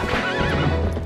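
A horse whinnies loudly and close in the video game Zelda: Twilight Princess HD, a short high neigh rising over faint hoof clip-clop, with no talking.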